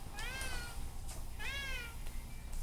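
A pet dog in a children's story says meow: two clear, close meows a second apart over a quiet background, likely a voice imitating a cat.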